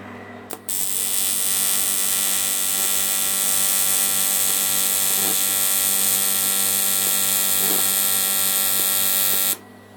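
An AC TIG welding arc from an R-Tech WP20F water-cooled torch, a steady buzzing hum that starts abruptly, holds evenly for about nine seconds, then cuts off sharply.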